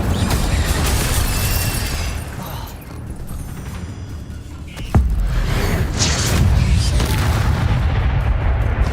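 Incendio fire spell cast in the Hogwarts Legacy video game, a sudden loud burst at about five seconds over a dense, continuous rumble of game action and effects.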